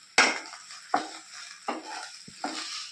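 Noodles with sauce being stirred in a pan, four distinct scraping strokes with a soft sizzle between them, close and clear with no talk.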